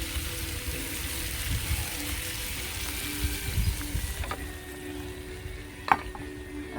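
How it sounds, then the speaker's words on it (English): Curried chicken sizzles and fries steadily in a pan over an outdoor campfire, a close continuous crackling hiss with a few sharp metallic clinks from utensils. "That sizzle, sizzle."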